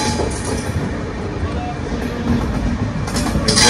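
Shantiniketan Express pulls out of Bardhaman platform 5 after a two-minute halt, a steady low rumble of rolling coaches building slightly, with faint voices in the background.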